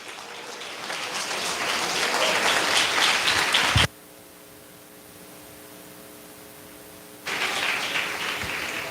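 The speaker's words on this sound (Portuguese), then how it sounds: "louvando a Jesus com a mais bonita salva de palmas" A church congregation applauds in praise, a broad dense wash of clapping that swells for several seconds, cuts to near-silence with a steady hum, then resumes loudly.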